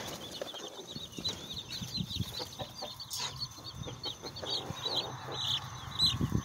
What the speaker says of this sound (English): Here we have some white leghorns.